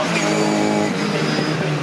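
MG Metro race cars at Cadwell Park rush through Hall Bends out of the wooded section: loud, close, revving engines in a steady roar, several cars together, with no talk heard.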